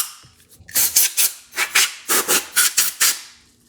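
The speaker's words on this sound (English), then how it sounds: "Now we need to hit it with some duster and just clean this up" Compressed air duster sprays onto a Dillon 550 reloading press in about eight short, sharp hissing bursts, close and loud, with no talking.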